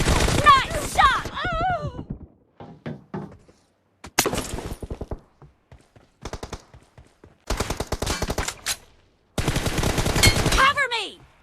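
PUBG Mobile gunfire comes in several sharp automatic bursts separated by short silences, loud and close, with game voice lines and shouting mixed in between the volleys.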